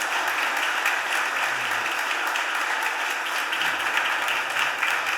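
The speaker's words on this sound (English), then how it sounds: "Can we get a real big round of applause, please?" A big, sustained round of applause rolls through city council chambers, many hands clapping evenly and continuously for several seconds at moderate distance.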